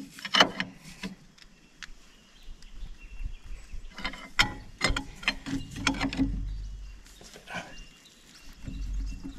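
A stuck Caterpillar D5 engine is turned over by hand, giving scattered metallic clanks, knocks and ratcheting clicks close by, with strained pauses between efforts.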